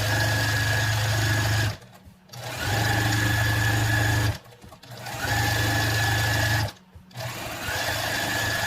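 A sewing machine runs a straight stitch along a king-size pillowcase, close and steady, in three long bursts of whirring with brief pauses between them.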